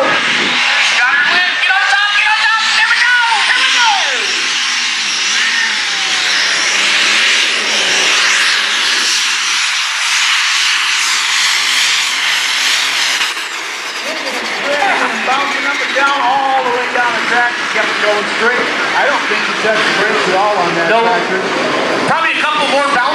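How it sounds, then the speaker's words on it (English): A diesel super stock pulling tractor at the Power Pull Nationals in Hutchinson, Minnesota roars at full throttle down the track, a loud, sustained engine howl that shifts in pitch as it strains, with an announcer talking over it. "Feed air back into the motor. Shoot a little diesel fuel in there at the correct second, and away we go."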